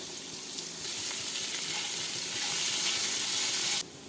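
Chopped onion hits hot oil with diced potato, turmeric and salt for kakrol chechki, giving a steady, close sizzle that holds evenly and then cuts off abruptly just before the end.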